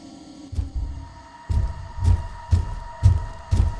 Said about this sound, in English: you'll hear the high fear audio cue, meaning you should hide as soon as possible